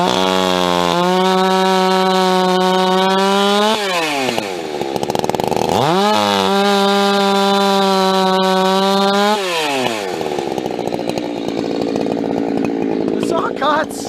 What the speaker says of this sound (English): The saw cuts.